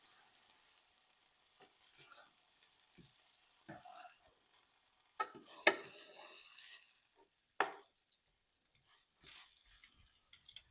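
Pork chops frying in a pan for baked pork chops with stuffing, a quiet steady sizzle broken by a few louder sharp scrapes and clunks of turning the meat, with faint sounds of handling around it.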